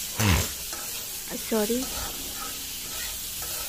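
Maggi noodles with onion and chilli sizzle and crackle in a frying pan, with a few clatters of stirring. A voice speaks briefly over the frying.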